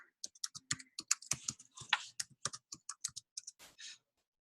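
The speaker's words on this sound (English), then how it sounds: "I had typed in the email address wrong" Someone types an email address on a computer keyboard: a quick, uneven run of close, crisp key clicks with short pauses, alone in a quiet room.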